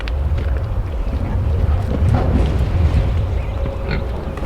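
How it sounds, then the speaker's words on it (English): Pigs grunting and snuffling as they feed outdoors on a farm, a steady low rumble of activity with wind buffeting the microphone throughout. "They're all happy to eat, as pigs should be."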